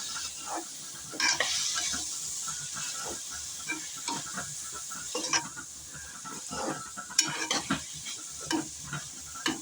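Mushrooms sauté in oil in a pan, a steady close sizzle broken by frequent scraping strokes of a spoon stirring them through, with no talking.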